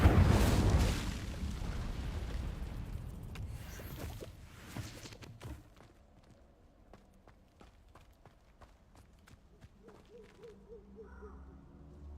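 An Incendio fire spell cast in Hogwarts Legacy: a loud whooshing, crackling burst of flame at the start that dies away over several seconds, followed by quiet ambience with light footsteps and faint owl hoots.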